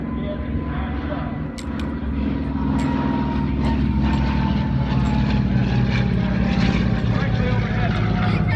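WWII propeller planes fly directly overhead in V formation at an airshow, their engines a steady, loud, continuous drone that swells slightly while a voice talks over it.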